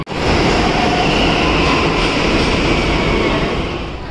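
A Delhi metro train rolls along with a loud, steady roar of wheels and rushing air, close and constant, with a faint squeal on the rails and no talk.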